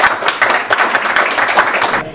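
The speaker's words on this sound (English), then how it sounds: "Let's give them all a big applause." An audience at an awards event applauds in a short, dense patter of clapping that stays loud and steady throughout.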